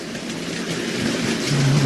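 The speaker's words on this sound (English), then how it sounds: "Does that sound healthy? Well, it's sort of rattling" A Hornby OO gauge Black 5 model locomotive rumbles and rattles along its track in a steady, close clatter, growing slightly louder toward the end.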